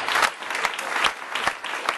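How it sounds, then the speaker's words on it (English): An audience at an investors panel applauds loudly and continuously, a thick patter of clapping hands with occasional sharper claps standing out. "let's give these guys another round of applause"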